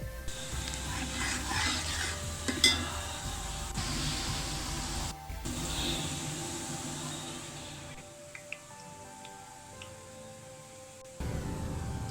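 Oil sizzles and crackles steadily as finely chopped onions fry in about 1.5 cups of oil in a pan for chicken biryani, a continuous hiss with occasional pops and stirring, no voices.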